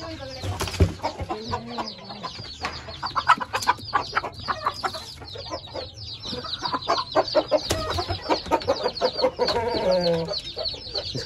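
Java rooster clucking repeatedly close by in a pen, a run of short, varied calls and squawks with brief pauses, loud and alone without talk.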